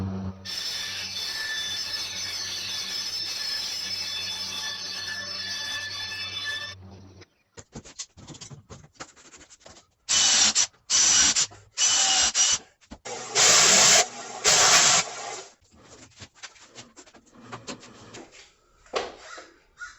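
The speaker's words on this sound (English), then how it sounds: "just use my grandfather's trusty bandsaw here, the old 12-inch Craftsman, and I will just cut that line right there" An old 12-inch Craftsman bandsaw hums steadily for several seconds, then cuts off; afterward come scattered clunks, scrapes and short bursts of louder workshop handling noise.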